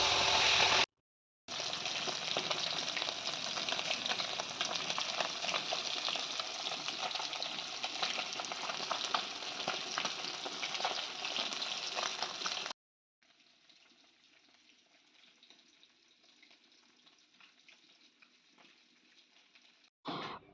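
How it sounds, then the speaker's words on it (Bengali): Pond tilapia frying in oil in a home kitchen, a dense close sizzle that fills the first stretch, then drops to a quieter, thinner crackle after a brief cut, with no talking. "সেই জন্য আগে মাছটাকে আমি ভেজে নেব"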